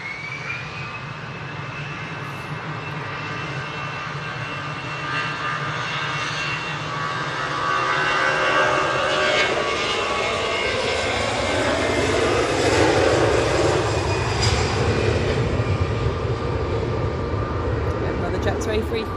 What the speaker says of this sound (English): A330 on the way out.